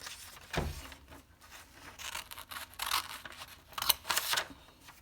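Scissors snipping through paper to cut out a front cover for a cereal-box collector's box, a quiet, irregular run of crisp cuts and rustles close by.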